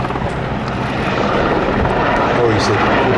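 A yellow Westland Sea King helicopter flies at an air festival, its rotor and turbine giving a loud, steady drone that fills the whole stretch, with someone talking over it.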